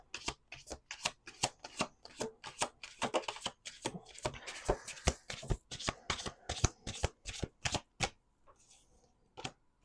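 Close riffling of a tarot deck in quick repeated bursts, the shuffling slowing and fading into quiet near the end.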